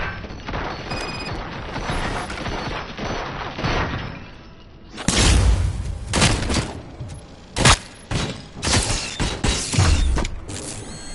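Gunfire in the video game RoboCop: Rogue City, with a mechanical churn and rattle giving way to loud, close bursts of shots and heavy clanks through the second half.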